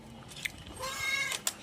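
A single drawn-out meow from a cat, fairly faint and close, with a couple of small sharp clicks around it in an otherwise quiet space.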